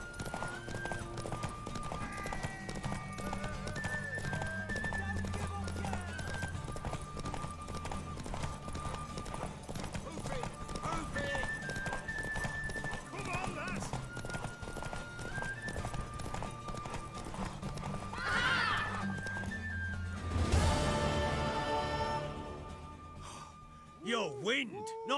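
Horse hooves galloping in The Witcher 3, a continuous clip-clop run with a neigh near the end, under game music and speaking voices.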